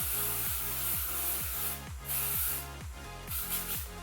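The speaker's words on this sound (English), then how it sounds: "I'm just gonna spray these little parts here, these curls here that I did." Two short hairspray bursts hiss close by onto curled hair over a steady, rhythmic pulsing background.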